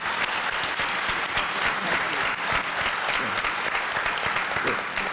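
A town hall meeting audience on domestic violence breaks into steady, dense applause. It is loud and sustained, filling the room for the full length without a pause.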